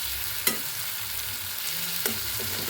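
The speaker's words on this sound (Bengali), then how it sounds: "আমি এখন টমেটোগুলো উল্টাই দিচ্ছি, এক পিঠ হয়ে গেছে।" Tomato pieces frying in a pan for a cauliflower mash dish are flipped over, giving a soft continuous sizzle with two brief utensil clinks against the pan.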